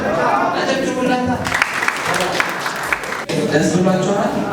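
A church congregation bursts into applause on Easter day, a dense wash of clapping rising in the middle between stretches of voices and singing, with people talking and singing around it.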